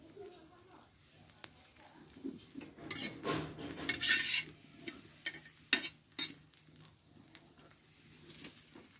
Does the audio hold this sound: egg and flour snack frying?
yes